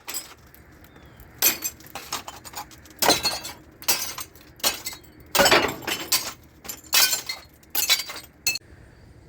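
Glass being broken out of an old door on a building being readied for a crane lift, a string of loud, sharp shattering crashes and tinkling shards in irregular bursts, close by, with no talk.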